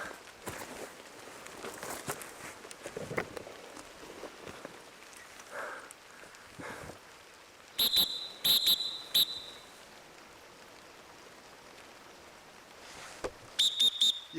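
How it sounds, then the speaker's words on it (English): A whistle blown outdoors in rough wilderness terrain gives a few short, shrill blasts in quick succession midway, then one more near the end, over rustling footsteps and brush. "You hear that whistle?"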